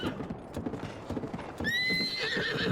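A horse in Zelda: Breath of the Wild trots with a quick run of hoof clip-clops, then gives a loud, bright whinny that rings out over the last second, with no voices.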